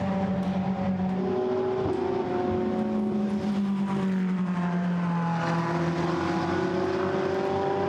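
Blancpain GT race cars at the Hungaroring, several engines droning and shifting pitch as they pass out of a corner, a steady loud roar with rising and falling tones and no talk.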